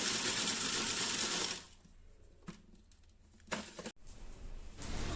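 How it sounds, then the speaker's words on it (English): A food processor grinding biscuits into crumbs, a loud dense whirring for the first second and a half, then quieter rattling pulses and short bursts before the motor roars up again at the end. "Add it to our food processor and process it until it becomes nice and crumbly like a sponge."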